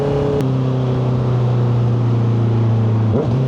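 A 2025 Honda CBR650R motorcycle engine holds a steady drone, then briefly blips its revs in a rev match near the end before settling, close up.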